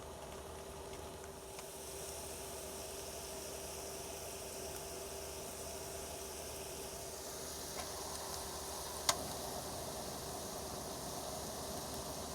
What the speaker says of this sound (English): let's dump these onions and peppers in here.